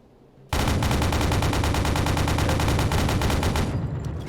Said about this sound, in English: We're just gonna go ahead and man the old anti-aircraft gun and finish it off.